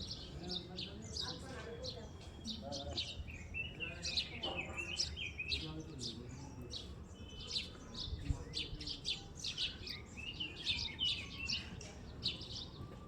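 Many birds sing near Enchey Monastery by Gangtok in the Sikkim Himalayan hills, a busy, continuous stream of chirps and tweets from several directions, moderately loud and with no pauses.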